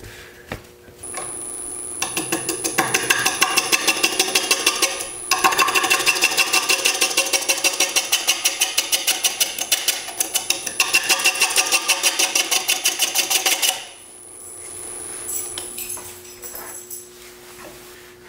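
A wood lathe turns a decorative display piece, with a rapid, regular, engine-like chugging pulse from the spinning work that runs loud and steady for about twelve seconds, then drops off to a quieter hum.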